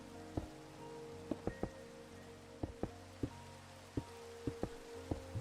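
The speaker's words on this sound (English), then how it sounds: "Alright, Rain, you can stop." Rain falling in the Minecraft video game makes a steady soft patter, with sharp drip-like ticks popping up irregularly throughout.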